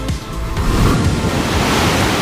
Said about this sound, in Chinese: 在龙溪瀑布下静立